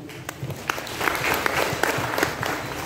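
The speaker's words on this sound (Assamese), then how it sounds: "এই শুভেচ্ছা মই সকলোকে এটা হাত চাপৰিৰে জনাবলৈ অনুৰোধ জনাইছোঁ" An audience at a student gathering claps together, a steady patter of many hands with sharper individual claps standing out, moderately close and building slightly before fading, with no speech over it.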